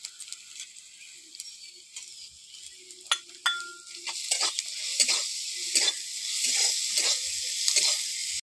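Onion, ginger and garlic fry in a pan with a soft, continuous sizzle, while a spatula repeatedly scrapes and clacks against the pan as they are stirred, close and busy.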